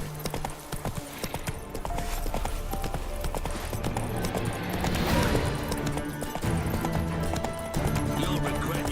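Horse hooves clip-clopping at a run in The Witcher 3 video game, a steady rapid gallop rhythm under game ambience and effects, fairly faint and continuous.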